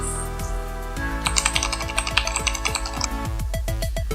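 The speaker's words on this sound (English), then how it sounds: "I love using Cherry MX switches. It sounds and feels so nice." Typing on a Corsair K68 full-size mechanical keyboard with Cherry MX switches, a close run of crisp, rapid clacking keystrokes in an irregular rhythm, heard alone without talking.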